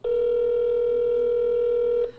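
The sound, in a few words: telephone ringing on an outgoing call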